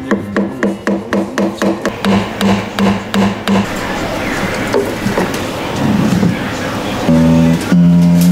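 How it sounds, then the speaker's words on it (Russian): A small hammer taps a wooden block during guitar headstock repair in a quick, even series of sharp knocks, close and loud, followed by rubbing noise and a few tonal thumps. "берем молоточек"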